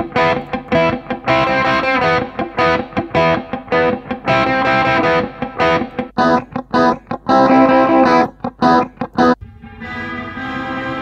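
Distorted electric guitar through the Amplitube amp simulator with compressor and delay effects, playing chords and riffs, loud and continuous with short choppy breaks, ending on a sustained ringing note.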